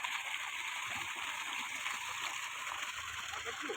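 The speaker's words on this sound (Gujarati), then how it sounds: "5 ની મોટર ફૂલ પાણી કાઢે." Water gushing from a 5 HP borewell motor pump at a farm well 70 feet deep, a steady broad rushing splash close by, continuous and even throughout.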